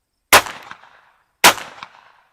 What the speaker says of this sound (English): target gun, so of course we're going to be shooting some target ammo